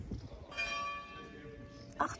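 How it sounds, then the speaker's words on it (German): Church bell ringing in an old town centre in Tønder near the North Sea, a faint distant tone sustained under soft background noise, with a short clatter near the end. "Glocken läuten."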